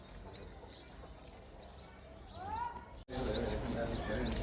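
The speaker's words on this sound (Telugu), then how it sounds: "ఏ ఇంటి ముందు ఉన్న మనీ ప్లాంట్లో ఒక పిట్ట గూడు పెట్టింది అందులో చిన్న పిట్ట పిల్లలు ఉన్నాయి" Baby birds in a nest inside a money plant outside a house chirp in high, thin repeated calls, close and fairly clear, with a person's voice talking alongside and a brief cut midway.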